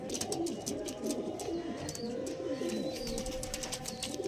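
Black diamond pigeons coo softly after being released, with repeated low warbling coos alongside faint chirps and light fluttering clicks. The calls are quiet but steady and nearby.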